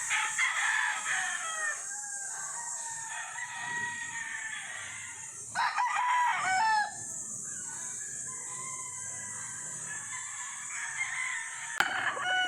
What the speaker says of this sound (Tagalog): Daming manok, no?